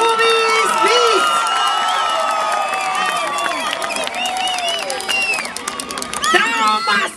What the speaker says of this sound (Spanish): Bien fuerte el aplauso para recibir Parodista Boobies Beats.